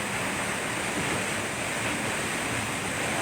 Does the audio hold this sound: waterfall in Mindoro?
yes